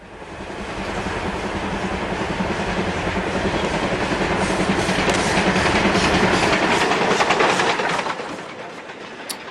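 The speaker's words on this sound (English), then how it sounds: "A J39 is seen with the short goods, heading north." An LNER J39 steam locomotive hauls a short goods train past at close range, a loud, dense wash of rolling wagons and rhythmic rail clatter that swells, holds, then eases off near the end.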